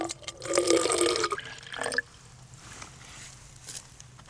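River water pours and trickles through a filter for about two seconds, close and splashy, then only faint, sparse drips remain.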